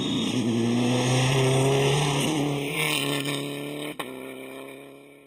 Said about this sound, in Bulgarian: Octam Team – Антон Титов и Венцислав Маринов с Citroen DS3.